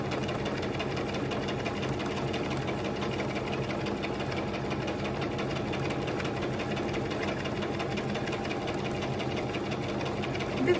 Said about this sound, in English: we're just doing a straight stitch, about 1 1/4 inch from the edge